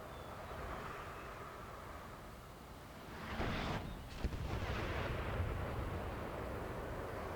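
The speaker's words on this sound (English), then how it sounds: "Here we just have a continued bombardment." Distant artillery bombardment in Napoleon: Total War, a low rumbling battlefield bed with muffled booms and a heavier burst of cannon fire near the middle, no talking.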